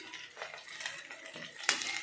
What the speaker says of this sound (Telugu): ఇప్పుడు దీనిలోనికి మనం కోసించుకున్న బెండకాయ ముక్కలు వేస్తున్నాను.